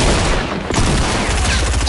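Dense, loud video-game shotgun fire crackles in a rapid burst of overlapping blasts, filling the moment with continuous booming chaos and no voices.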